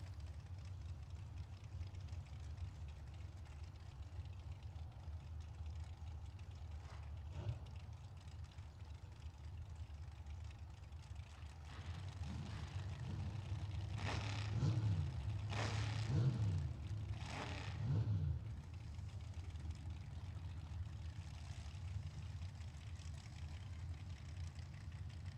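A 1957 Chevy race car engine at an outlaw drag race rumbles low and steady from a distance, then swells with a few sharp revs in the middle before settling back to a distant idle.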